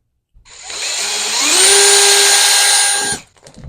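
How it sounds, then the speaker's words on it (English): A cordless power drill spins in reverse to back a screw out of a picture-hanging fitting, whirring loudly and steadily for about three seconds with a rising pitch midway, alone with no talk. "And you will take these apart, and I'll put my drill on reverse."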